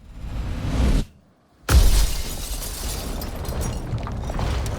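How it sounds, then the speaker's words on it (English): Rocks, earth and logs of a mudslide smash into a car, shattering the windshield and crumpling the hood: a loud roaring crash, a sudden brief silence, then a heavy burst of breaking and rumbling debris. "The avalanche of earth smashes into their car, shattering the windshield, crumpling the hood."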